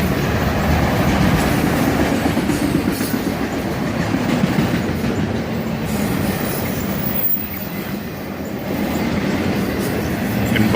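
An autorack freight train hauled by SD50 locomotives rolls past at slightly reduced speed near a road crossing, producing a loud, steady rumble with rhythmic wheel clatter and occasional squeal close by.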